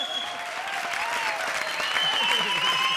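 Studio audience at a comedy show breaks into loud, sustained applause that swells toward the end, with voices calling out over the clapping.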